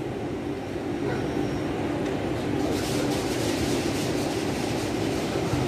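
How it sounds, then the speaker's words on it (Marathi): A steady, low rumble fills the cabin of a train running from Gatwick to London, with no talking. "गॅटविक टू लंडन परत ट्रेनने पहा."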